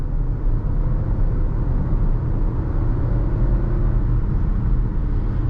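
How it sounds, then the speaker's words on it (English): A 2014 Audi Q7 3.0T accelerates under throttle, producing a steady low engine and road rumble from inside the cabin, even and sustained with no talking. "Give it some gas here."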